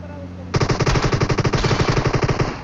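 Rapid automatic gunfire in the mobile battle royale game PUBG Mobile, a loud, close burst of evenly spaced shots running for about two seconds after a quiet start.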